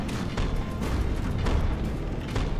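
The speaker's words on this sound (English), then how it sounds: "that explosion pushed it forwards." Explosions and battle noise from the vehicle-combat game From the Depths, a dense, continuous rumbling roar with repeated booming bursts throughout.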